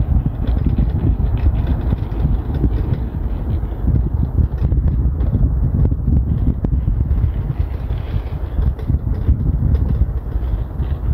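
Wind rushes steadily through a bamboo grove in an ecological park, a loud continuous low roar with gusty rustling and no speech.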